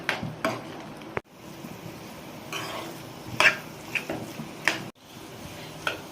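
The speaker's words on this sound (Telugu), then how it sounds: "ఎగ్స్ని కలుపుకుందాము" Eggs are stirred in a pan for egg bhurji, with a spoon making scattered light scrapes and clinks against the metal over a quiet background, a few sharper taps standing out.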